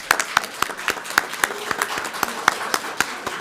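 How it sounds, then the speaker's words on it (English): Applause at a city council meeting in American Canyon, honoring volunteers: a room of people clapping steadily, with crisp individual claps standing out over a dense patter, moderately loud and continuous throughout. "I would just give another applaud for our volunteers."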